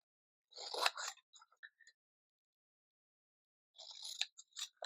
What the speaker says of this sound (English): Just cut out the square.